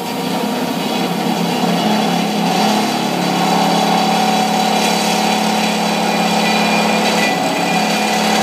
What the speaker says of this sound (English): the machine always cuts through the material and then trips out when it's through the material